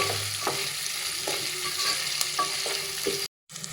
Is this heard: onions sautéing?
yes